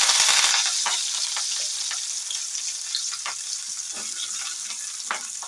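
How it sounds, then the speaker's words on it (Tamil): Onion, green chilli and curry leaves dropped into hot oil for an idli fry, a bright burst of sizzling that settles into steady frying, with intermittent stirring clicks and scrapes nearby. "வெங்காயம், பச்சை மிளகாய், கருவேப்பிலை போட்டுக்கலாம்"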